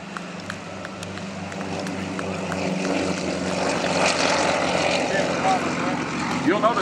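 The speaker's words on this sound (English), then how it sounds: "The Nanchings and the Yaks as they come down the runway here." Nanchang and Yak radial-engine propeller planes making a formation takeoff at an air show, a steady engine drone building in loudness as they roll down the runway, with a voice talking over it.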